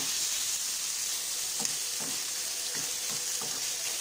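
Onion, spring onion and pepper sautéing in oil for a pizza sauce, a steady loud sizzle with a few soft stirring knocks in the second half.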